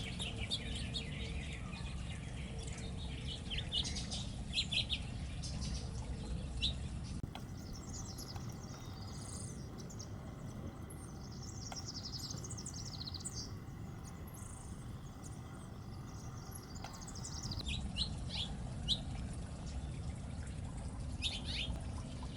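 Wild birds at backyard seed feeders, including white-crowned sparrows, towhees and scrub jays, chirp and call in scattered, overlapping bursts over a steady low outdoor hum.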